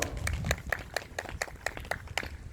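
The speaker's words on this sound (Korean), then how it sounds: "박수 부탁드리겠습니다." Applause from the crowd at a Korean labour union's outdoor press conference: steady, dense clapping from many hands, with sharp individual claps standing out over a continuous rumbling background for the whole stretch.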